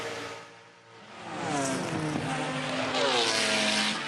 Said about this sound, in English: 830 brake horsepower from this Roush Yates engine now